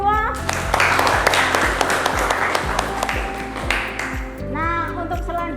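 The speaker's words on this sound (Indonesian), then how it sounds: "Tepuk tangan untuk kita semua." A school class claps together in a classroom lesson, producing a burst of fairly close, uneven hand claps over a steady tonal hum, with voices and a ringing tone near the end.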